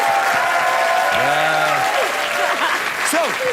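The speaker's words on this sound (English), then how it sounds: "Sometimes when the audience feels sorry for me, they applaud." A studio audience on a late-night talk show breaks into a short burst of applause that fills the whole moment, with a voice briefly audible over it.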